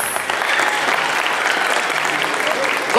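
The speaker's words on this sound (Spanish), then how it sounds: "Un aplauso para todos los presentes." An audience at a gathering in Orocovis breaks into a short, dense burst of applause, loud and steady for a few seconds with scattered voices in the crowd.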